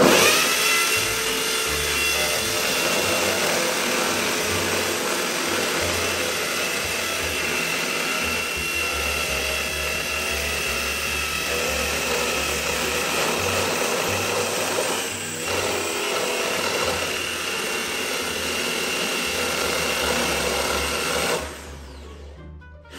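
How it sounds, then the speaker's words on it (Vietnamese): Electric drill whirring steadily and loudly while drilling into a wall to hang curtains at a house in Long An, one sustained buzzing run that cuts off near the end. "Bây giờ mình sẽ khoan."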